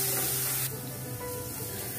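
Ground garlic, curry leaves and green chilli frying over a medium flame in a pan for tomato rasam, a steady close sizzle and hiss that runs throughout, louder in the first moments, with no talk.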